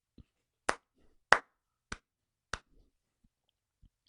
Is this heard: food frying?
no